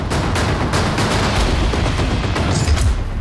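Firecrackers go off in a dense, continuous string of loud bursts and crackles in a Maharashtra street during a procession celebrating a gangster's release on bail. The bursts are close and overlapping, with a noisy crowd-street wash underneath.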